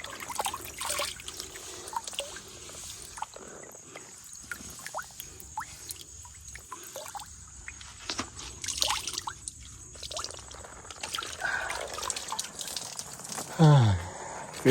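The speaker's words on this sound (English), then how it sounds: "Fresh mountain water." Fresh mountain water drips and trickles from a wet rag on a forest trail in the Ouachita Mountains, a close run of small irregular drips and dribbles over quiet outdoor ambience, with a brief louder splash near the end.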